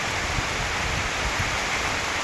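Heavy unseasonal May downpour in Maharashtra, a steady dense hiss of rain with low rumbling spatters, loud and continuous without any voices.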